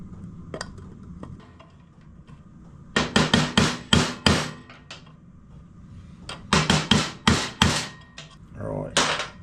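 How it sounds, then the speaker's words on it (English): Hammer blows knocking a seal out of a Honda CRF engine casing, loud sharp metallic strikes in quick bursts of several hits, with a pause between the groups. "pull it to one side and bash at the back of that seal, and slowly get it out of that casing"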